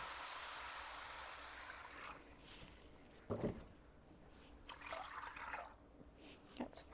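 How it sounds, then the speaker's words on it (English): Six cups of water poured into a pot of beans while cooking, a soft trickling stream and faint splashes, quiet and intermittent with small drips and clatter. "And then we will need 6 cups of water."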